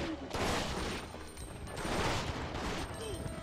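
Chaotic volleys of gunfire among players in Biohazard Outbreak File 2 on PS2, a dense, continuous clatter of shots at moderate-to-faint level blending into a noisy background.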